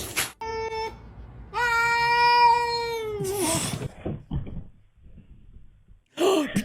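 A pet cat lets out a short meow, then a long, drawn-out wailing meow, loud and close, followed by a brief rustle and a sharp breathy sound, with no talking.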